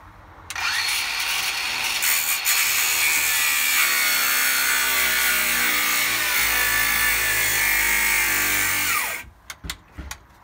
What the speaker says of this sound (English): it cuts through this laminate without chipping it